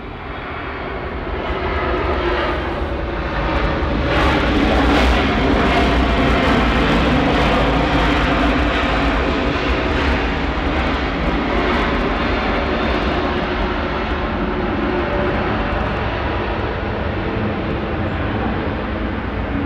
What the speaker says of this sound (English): There's the A330 again.